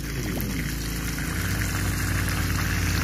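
A generator-driven pump draws water from a desert well in Saudi Arabia, giving a steady, close mechanical hum under a continuous rush of flowing water with no pauses.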